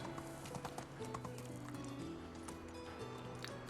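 Donkey hooves clip-clopping in the video game Medieval Dynasty, a steady run of hoof knocks over background game music and ambience, moderately close with no talking.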